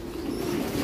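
Two young pigeon squabs being fed in a racing pigeon loft give a steady, close, low cooing murmur that runs for under a second without a break.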